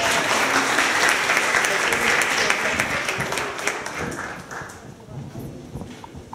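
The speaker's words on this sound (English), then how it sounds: "Please give them a warm round of applause." Loud audience applause at a tech demo day event, dense clapping from a large crowd sustained for several seconds, then gradually thinning and fading toward the end.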